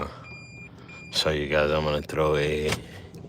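Repeated electronic beeping, like a vehicle backing alarm, sounds near a fishing spot. It comes as steady pulses, with someone talking loudly over it in two bursts.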